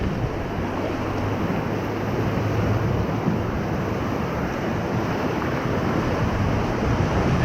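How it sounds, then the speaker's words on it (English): Whitewater crashing over and around a raft in the Middle Ocoee River rapids, a loud continuous rushing roar of churning water and spray with constant wind buffeting, no talk. "this is gonna give you a cool, refreshing splash"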